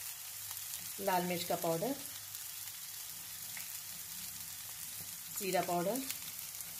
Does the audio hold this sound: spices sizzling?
yes